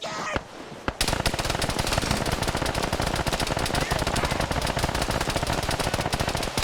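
Sustained rapid automatic gunfire from a multiplayer Arma battle, beginning with a couple of sharp shots and then a dense, loud, continuous stream of close rounds lasting several seconds.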